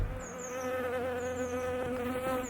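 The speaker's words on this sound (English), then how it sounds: "There's a bee trying to get up close and personal with my the muffs." A bee buzzes right up against the microphone in an outdoor exercise setting, a loud, close, wavering drone that hums continuously with slight shifts in pitch as it hovers, with no talking over it.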